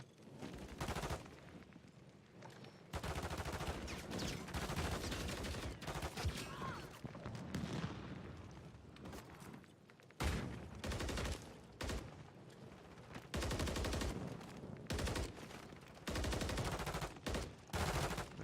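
Call of Duty MW3 gunfire in bursts of rapid automatic shots, loud and dense, broken by short pauses, with no talk over it.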